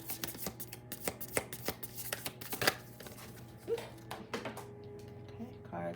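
Playing cards shuffled by hand in a quick run of riffling snaps and soft flicks, ending in a scattered patter as cards spill, close and fairly quiet.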